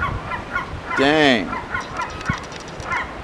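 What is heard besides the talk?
baby seagull calling while being fed peanut butter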